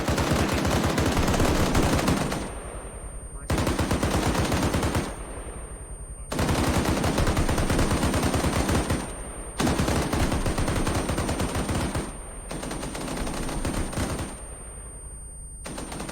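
Automatic weapon fire in the military shooter ARMA 3, loud sustained bursts of rapid rattling shots in five long strings separated by short pauses with fading echoes, no talk.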